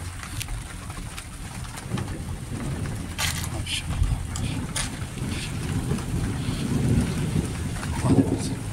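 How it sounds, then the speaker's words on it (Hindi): Rain falls steadily in the background in Saudi Arabia while pigeons coo nearby and wind rumbles against the microphone. "ये देखें बारिश हो रही है"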